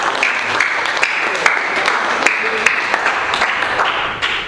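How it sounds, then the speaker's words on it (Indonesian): A classroom audience claps for a student, steady dense applause filling the room at close range for several seconds before tapering off at the end. "kita berikan aplaus untuk Sandi"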